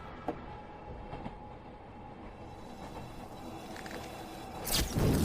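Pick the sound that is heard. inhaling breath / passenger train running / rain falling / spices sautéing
passenger train running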